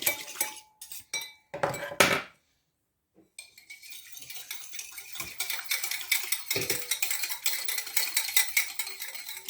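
Yeast and water stirred in a bowl with a utensil, bright clinks and scrapes against the bowl, a few separate taps at first, then a short pause and continuous close stirring.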